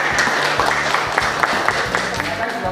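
A classroom of students clapping after a group presentation, brisk close applause with distinct individual claps over a steady rattle, lasting the whole short stretch.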